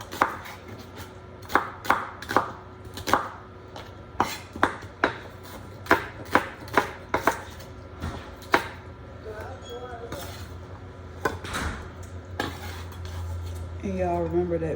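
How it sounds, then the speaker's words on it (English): Knife chopping an onion on a cutting board at home, a run of sharp, evenly spaced thuds with short pauses, close and clear, with faint kitchen background and a brief low hum near the end. "I'm gonna cut up this onion."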